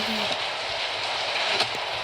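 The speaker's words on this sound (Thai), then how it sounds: "ฝนตก" Steady rain falling outdoors, a constant close wash of patter and hiss that runs unbroken through the clip with a faint thump near the end.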